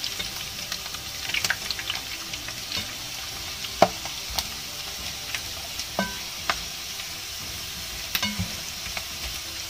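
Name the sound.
ginger frying in hot oil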